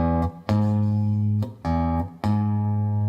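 A few sustained, steady musical tones rise in sequence to outline an interval of a third, each note ringing clearly with short gaps between them and no talking.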